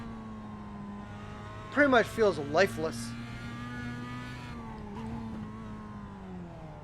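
A race car engine in the iRacing sim racing game hums steadily at a constant pitch, with a short burst of rising and falling revs partway through, under someone talking.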